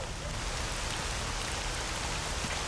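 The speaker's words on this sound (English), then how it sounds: "So let's change it to rain. Let's go rain 3." Steady, dense rain pours in the S.T.A.L.K.E.R. Anomaly video game, a loud uniform hiss of drops striking surfaces with no pauses.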